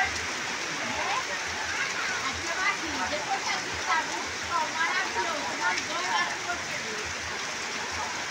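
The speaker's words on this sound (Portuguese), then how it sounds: "é um banho de chuva também." Steady rain hisses over an outdoor pool during a bath, a dense constant patter with voices faintly mixed in.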